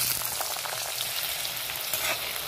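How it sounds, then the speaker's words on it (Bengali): Onions frying lightly in hot oil in a pan for chicken korma, a steady, close, bright sizzle with crackling spits throughout and no talking. "তেলটা গরম হয়ে গেছে, এবার আমি পেঁয়াজগুলো হালকা করে ভেজে নেব।"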